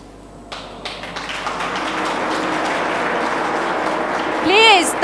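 An audience at a UPSC/IAS exam seminar breaks into clapping. A soft start builds into a continuous, fairly loud wash of applause, and a short rising voice-like cry cuts through near the end.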